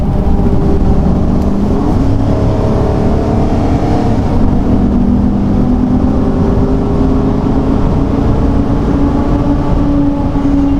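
A Chevrolet Silverado truck accelerating hard from 40 to 60 mph with a downshift, its engine note rising steadily under constant loud road and tire roar heard from inside the cab.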